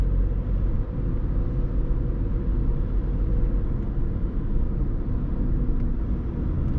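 A VW Polo 1.6 TDI diesel with a 7-speed DSG gearbox idling along at low revs in city driving, heard as a continuous low, even engine rumble from inside the car.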